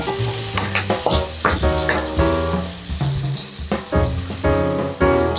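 Chopped siling labuyo chilies sizzle in a pan for adobong sitaw, with repeated stirring scrapes and clatters cutting through the loud, steady frying.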